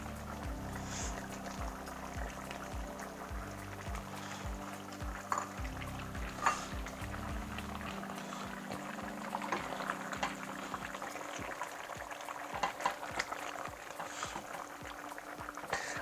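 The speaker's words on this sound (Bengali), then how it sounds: "সো এটা সিদ্ধ হতে থাকবে, তার মধ্যে আমি একটু টমেটো দিব।" A pot of chicken curry with potatoes bubbles steadily on the stove, a continuous soft simmering hiss with scattered small pops, close by and moderately quiet, with a low hum underneath.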